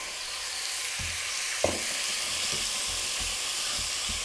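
Thin steak slices fry in a pan with a bright, steady sizzle, punctuated by a run of soft rhythmic taps and one sharper clack as the meat is spread out; no talking.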